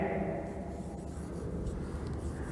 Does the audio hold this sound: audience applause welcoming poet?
no